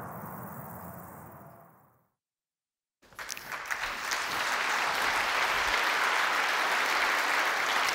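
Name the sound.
applause at the German Environmental Award ceremony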